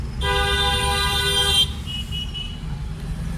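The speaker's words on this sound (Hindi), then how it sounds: "लॉन्ग हॉर्न पुश करो।" A single long, loud car horn blast holds steady for about a second and a half, then cuts off, leaving low road rumble underneath.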